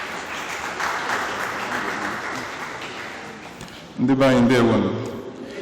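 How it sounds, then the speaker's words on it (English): An audience at an evening event applauds to welcome the director of a memory center, steady clapping for several seconds before a voice begins speaking over the fading applause. "with a resounding round of applause, let's welcome the Director of the Center for Memories"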